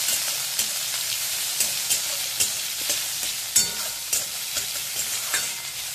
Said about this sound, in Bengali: ফোড়নটা আমার ভাজা হয়ে গেলে এর মধ্যে আমি পেঁয়াজ কুচি দিয়ে দিচ্ছি